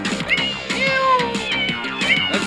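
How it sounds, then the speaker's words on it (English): A cat in a video game meows repeatedly, several drawn-out, rising and falling cries close by, with brief gaps between them over a faint background. "That's a cat."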